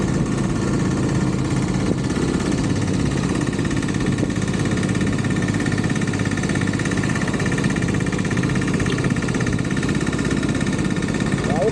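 A motorbike engine runs steadily while being ridden, a loud continuous throbbing hum with rough vibration that holds unbroken throughout.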